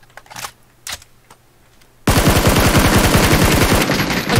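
Rapid automatic gunfire in a multiplayer shooter game, loud and close, bursting in suddenly after a couple of faint sharp shots and running steadily to the end.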